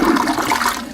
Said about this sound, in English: Is solving Norman's water shortage as simple as flushing the toilet